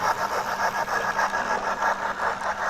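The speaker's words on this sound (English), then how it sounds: "you can hear the exhaust. Exhaust gets quicker as it comes up." A model steam locomotive puffs out a steady, rhythmic run of exhaust chuffs, close by and fairly loud with no voices.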